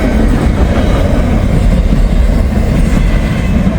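A train on the B&O railroad passing northbound toward Chicago, a loud, close, continuous rumble with rail clatter and a steady roar throughout, no voices.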